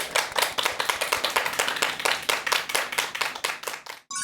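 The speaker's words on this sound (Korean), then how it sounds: "큰 박수 부탁드립니다." An audience at a lecture claps in welcome, a close, crisp burst of many hands with a quick, slightly uneven rhythm that stops abruptly near the end.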